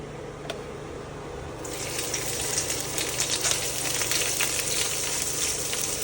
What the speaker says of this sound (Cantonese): 放你醃咗嗰啲蝦入去